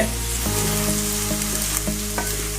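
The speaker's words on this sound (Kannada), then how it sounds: "ಚೆನ್ನಾಗಿ ಫ್ರೈ ಆಗಲಿ ಎಣ್ಣೆಯಲ್ಲಿ ರವೆ." Semolina (rava) frying in oil for masala upma, a constant close sizzle with periodic taps and scrapes of a spoon stirring the pan, loud and steady under a faint mains hum, no voices.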